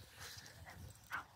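A puppy gives a single brief, faint whine near the end, over a low background with no talking.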